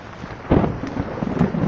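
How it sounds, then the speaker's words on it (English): Heavy early-morning rain pouring down outdoors, a dense roaring wash with low rumbling bursts like thunder, loud and close. "It's absolutely pissing down."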